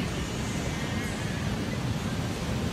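A strong waterfall current rushes continuously, a dense, steady roar of flowing water at moderate loudness with no breaks and no voices.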